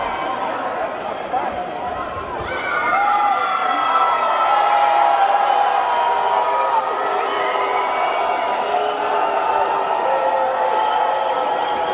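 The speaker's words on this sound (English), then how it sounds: "there was almost as much booing in The Hague at the Noordeinde balcony appearance as there was cheering" A crowd gathered below the Noordeinde Palace balcony in The Hague cheers and boos, a dense, steady roar of many voices with whoops and shouts that swells louder after the opening seconds and holds.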